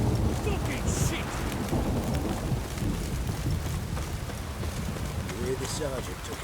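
Dense rain hisses steadily in The Witcher 3 game with deep thunder rumbling beneath, while muffled voices talk faintly under the storm.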